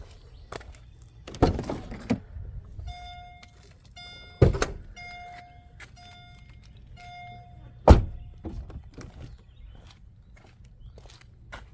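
Custom 700-horsepower Mercedes-Benz SL55 AMG, with a few close mechanical thunks and clicks of its hood being released and lifted, plus a short series of electronic chimes, quiet between the knocks and without talk.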